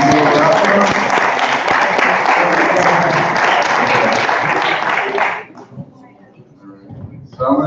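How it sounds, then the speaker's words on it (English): A room full of people applauding kids who have just presented, at a community event remembering a 1915 massacre, with dense, steady clapping for about five seconds before it fades out and a few faint voices remain. "I want to give them a round of applause"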